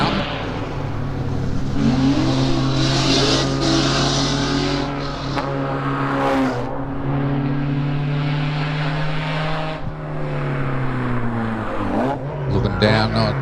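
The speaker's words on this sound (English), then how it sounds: "Got Grant Stevenson driving his little Mark 1 Escort" A little Mark 1 Escort race car climbs a mountain hillclimb course, its loud engine roaring and revving continuously with shifting pitch as it pulls up the hill, fairly close throughout.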